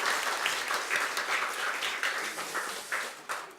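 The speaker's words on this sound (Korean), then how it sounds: "우리 하나님 앞에 우리 영광의 박수를 한번 드리겠습니다" Congregation at a Sunday morning worship service giving sustained applause, a dense wash of many hands clapping, steady and moderately distant.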